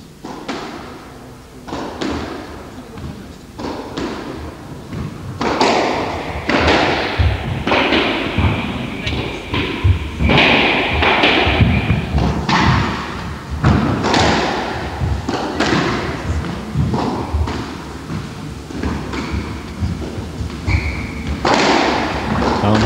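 Squash ball strikes thud and crack off racket and walls throughout a 1981 semi-final match in Norfolk, repeated sharp hits at a quick irregular rhythm under steady commentary and crowd ambience.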